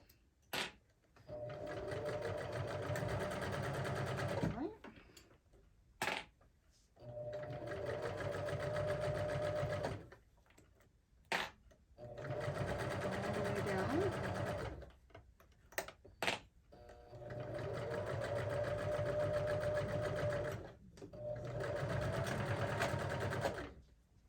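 A sewing machine stitches the pocket sides of a bag in four steady runs of several seconds each, with short clicks and pauses between them, close and clear with no talking.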